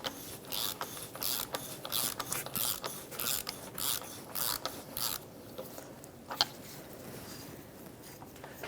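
Ratchet clicking rapidly in quick bursts while unscrewing the oil filter housing on a 2013-2018 Toyota RAV4, close and crisp, then easing into softer rattling as the housing spins loose.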